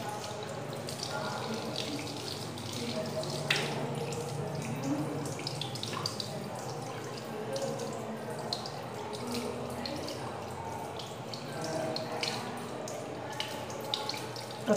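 Tap water runs steadily into a sink while someone washes their hands during a COVID-19 handwashing demonstration, a continuous splashing wash with faint voices and movement in the background.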